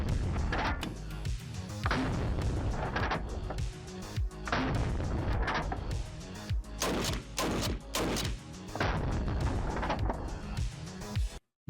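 Loud, booming blasts from a Serbu .50 caliber rifle fired from the hip repeat throughout, with dense broadband reports and bursts of voices mixed between the shots.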